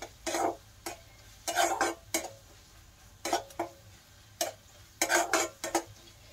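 Spices fry in a pan while a spoon scrapes and clinks against the metal in irregular stirring strokes, the clanks standing out over a quiet, low sizzle.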